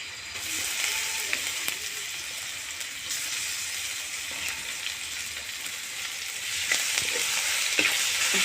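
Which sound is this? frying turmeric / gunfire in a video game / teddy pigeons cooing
frying turmeric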